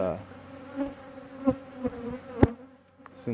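Aggressive killer bees swarm around a large top bar hive, a steady close buzzing drone with a few louder bees passing near, and no one speaking.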